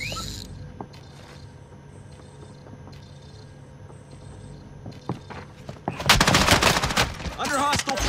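Gunfire in Call of Duty Warzone on Rebirth Island: a fairly quiet stretch with scattered game clicks and thuds, then a loud burst of rapid automatic shots near the end.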